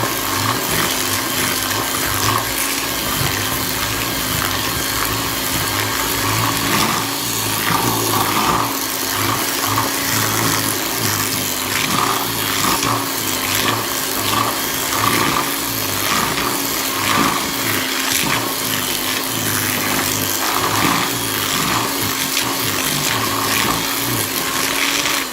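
An electric mixer creams spritz cookie dough ingredients in a bowl, a steady loud whirring drone running continuously throughout with slight fluctuations in load.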